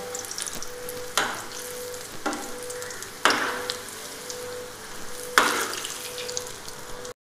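Moong dal pakoras sizzle and bubble in hot oil with a steady crackle, while a few louder splashes and stirs come at intervals as pieces are turned.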